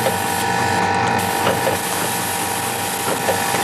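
On an automated assembly line, a pusher feeds a top fixture onto a moving belt, making a loud, close, continuous mechanical whir with rapid ratcheting clicks and a few sharper clunks.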